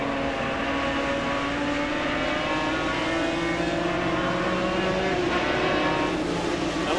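Touring race cars at the 2003 Mosport World Challenge roar steadily side by side down the straightaway, a continuous loud engine drone with shifting harmonic whine, and a commentator talking over it.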